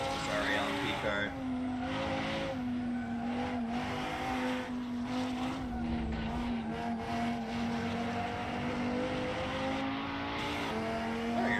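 LMP race car engine in the video game Assetto Corsa, a steady loud drone with shifting pitch that holds throughout, with faint tire noise and other cars underneath.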